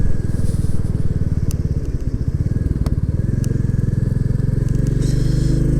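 A Royal Enfield Classic 350 single-cylinder motorcycle riding out on the road, its engine thumping in a loud, close, steady rhythmic beat with wind rush and a few faint clicks.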